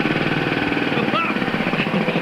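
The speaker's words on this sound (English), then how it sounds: "if I start the air compressor for you, you'll see why we've not got it on at the moment" An air compressor in the engine room of the ship Ross Revenge starts up, a loud, rough, pulsing mechanical rumble with rattling, while a voice talks over it.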